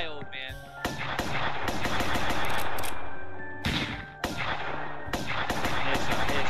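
Rapid machine-gun fire in the video game Insubordinate Time Rebel, dense loud bursts of automatic shots with brief pauses between volleys.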